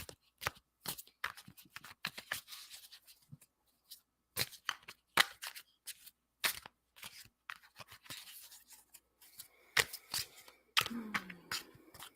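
Tarot cards shuffled by hand in a quiet candlelit room, a run of crisp, close riffles and taps in uneven bursts, with brief pauses between handfuls.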